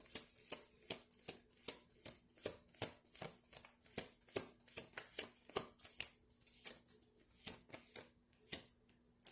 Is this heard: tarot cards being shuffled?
yes